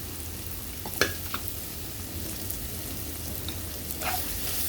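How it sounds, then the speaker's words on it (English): Spices and chicken liver sautéing in a pan, a soft steady sizzle and hiss with a few sharp clinks of a utensil against the pan, quiet and close, with no talk. "I'll saute this finely."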